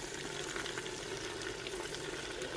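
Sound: water being poured into a pan of mixed vegetables

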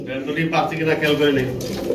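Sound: racer pigeons cooing

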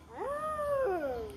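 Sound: child imitating a cat

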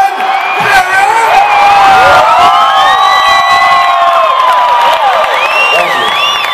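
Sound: concert crowd cheering at a show

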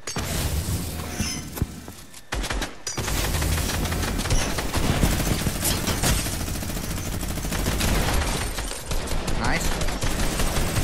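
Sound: gunfire in a video game

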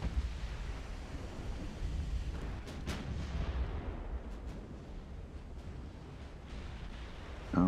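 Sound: 14-inch naval guns firing, video game Ultimate Admiral: Dreadnoughts

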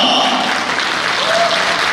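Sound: wedding guests applauding

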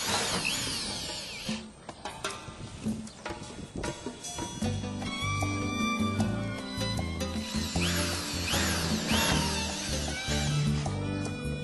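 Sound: screwing bottom flashing to roof sheet ribs

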